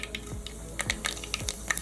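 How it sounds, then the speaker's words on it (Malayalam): Mustard seeds popping and sizzling in hot oil, a faint crackle of small sharp pops scattered over a soft frying hiss. "കുറച്ച് കടുക് ഇട്ട് കൊടുക്കുമ്പോൾ എണ്ണ നല്ലപോലെ ചൂടായി"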